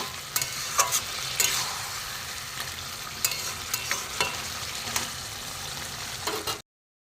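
Chicken curry masala, loosened with spice-rinse water, sizzles and is stirred in a pan, a steady close crackle punctuated by spatula scrapes and knocks before cutting off abruptly.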